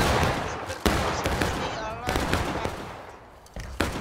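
Musket volleys in the War of Rights video game, a Civil War battle with the 8th Alabama, a few sharp cracks spaced apart over a rumbling battlefield background.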